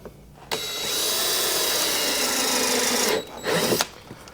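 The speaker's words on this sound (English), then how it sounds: "So don't have to drill really deep in there. Just put a hole in there." A power drill boring a hole during a car sound system installation, one sustained high whine of about three seconds after a short start, then a brief second burst, close and loud with no talk.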